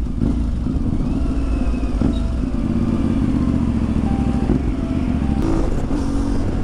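A CFMOTO 450 MT motorcycle ridden fast on a paved road, its engine giving a steady loud drone with wind rush throughout and a brief shift or rev change near the end.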